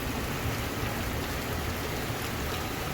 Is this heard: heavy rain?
yes